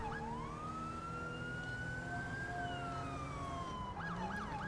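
A police car siren in the video game GTA 5 wails in a long rising and falling sweep, loud and continuous over a steady rumble of engine and traffic, then breaks into quicker yelps near the end.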